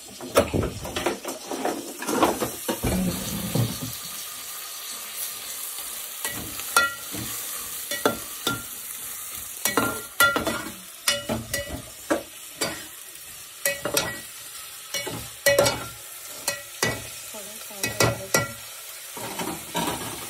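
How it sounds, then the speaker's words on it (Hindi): Biryani ingredients fry in a pan until brown: a low sizzle runs under repeated close, irregular scraping and stirring strokes of a spoon against the pan. "ब्राउन होने तक इसको फ्राय करने का."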